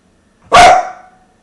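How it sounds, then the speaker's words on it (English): A dog gives a single sharp bark, loud and close, breaking an otherwise quiet moment during a guided meditation session. "I have no idea what that dog is barking at."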